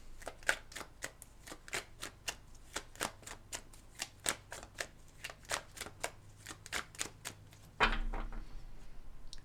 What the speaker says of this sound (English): Give these cards a good shuffle between